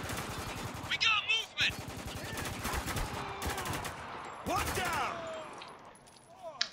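Bursts of M4 rifle fire in the shooter game Spec Ops The Line, several quick automatic volleys with short gaps between them, mixed with other combat effects and an occasional voice.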